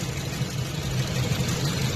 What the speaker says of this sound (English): then you just idle the car until it gets hot